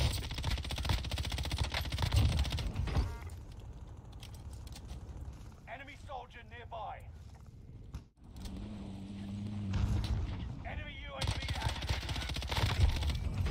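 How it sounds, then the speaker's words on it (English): Machine gun fire rattles in rapid bursts in Call of Duty Warzone, a video game, loud at the start and end with quieter stretches between, while people talk over it. "I'll take you both out with this fucking machine gun"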